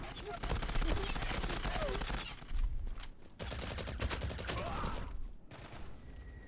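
Automatic weapon fire in the online shooter Zula crackles in dense rapid bursts, loud and close, broken by brief pauses and clattering mechanism sounds.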